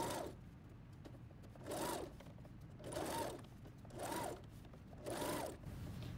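A sewing machine stitches stretchy coverall fabric in five short, regular bursts of rapid whirring with quiet pauses between them, close and fairly soft, with no talking.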